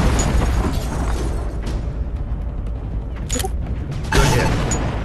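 A target explodes in the video game Shadow Strike with a heavy, booming blast that fills the clip, followed by a sharper burst near the end, loud and close with no voices.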